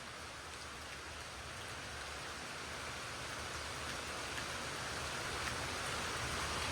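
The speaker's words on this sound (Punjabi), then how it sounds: "ਇੱਧਰ ਤੇ ਆਵਾਜ਼ ਆਈ ਕਾਫੀ ਭਾਰੀ ਮੀਂਹ ਦੀ" Heavy rain pours steadily, a dense continuous hiss of drops on surfaces that swells slightly louder, with no voices.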